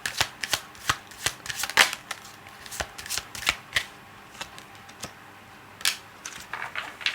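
Tarot cards are shuffled in quick, crisp riffles and slaps, a dense run of sharp papery bursts that slows briefly near the end, close and alone without voices.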